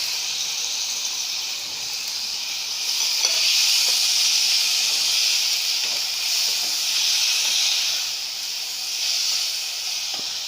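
Red tomato and capsicum frying in a pan for Jain paneer bhurji, a loud, steady close sizzle and hiss that swells and eases, with faint stirring scrapes underneath.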